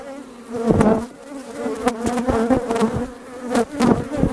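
Dense, steady buzzing of many honeybees close by, a droning hum with small swells and dips in loudness throughout.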